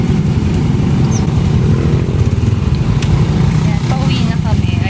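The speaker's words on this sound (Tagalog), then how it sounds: "Traffic!" Busy road traffic with passing cars and motorcycles, a dense continuous engine rumble close by, with people talking over it.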